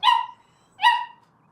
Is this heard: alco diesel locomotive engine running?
no